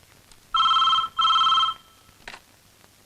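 A telephone rings in two loud electronic bursts, each lasting about half a second, followed by a fainter brief sound afterward; no one speaks during the rings.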